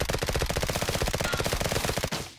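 Rapid sustained machine gun fire in the trench-warfare video game Trenches, a dense, even rhythm of loud shots that runs unbroken for about two seconds before cutting off.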